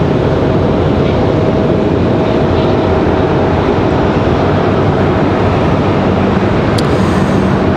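A United airliner inbound from Newark passes an airport runway with a steady, broad roar that holds at a constant loud level through the whole stretch, with no voices.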